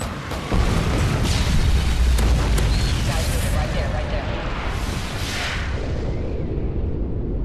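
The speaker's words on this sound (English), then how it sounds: "Friendly M.O.A.B incoming." A massive M.O.A.B killstreak explosion in Modern Warfare 3 on the Village map: a sustained, loud deep rumbling boom that swells from the start and rolls on for several seconds with crackling debris, under faint voice chatter.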